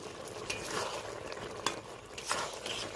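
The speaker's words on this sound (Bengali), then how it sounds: "গরম মশলাটা ভালো করে মিশিয়ে নিচ্ছি।" Garam masala being stirred into chana dal and soybean in a pan, with quiet frying and scraping strokes of the spoon and a few sharper clicks against the pan.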